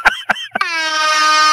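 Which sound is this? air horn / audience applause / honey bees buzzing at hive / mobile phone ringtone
air horn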